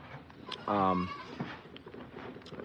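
A goat on a Pennsylvania farm gives a single clear, loud bleat lasting about half a second, with a few soft thumps and faint farmyard noises around it.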